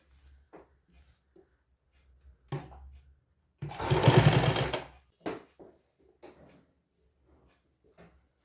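A sewing machine runs a short press stitch on a little girl's sharara outfit, one steady burst of about a second and a half set among quiet handling clicks and fabric rustles.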